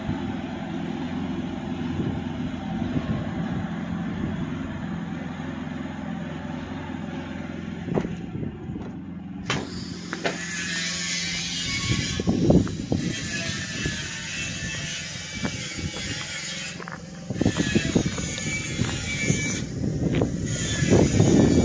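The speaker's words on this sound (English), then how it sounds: "you can hear that generator running on the inside" A generator runs inside an enclosed pipe lining trailer, a steady low mechanical hum and drone throughout, with bursts of broadband wind or handling noise layered over it partway through.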